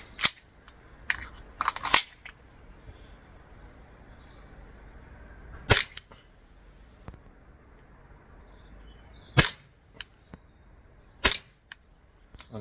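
Sharp, isolated cracks from an ASG CZ75 BB pistol, a handful of shots spaced irregularly across a quiet room, close and loud with no talking.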